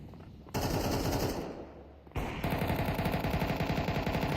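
AWP sniper rifle and other gunfire in a Counter-Strike match, with loud sustained bursts of shooting, a brief drop near the middle, then continuous rapid fire to the end.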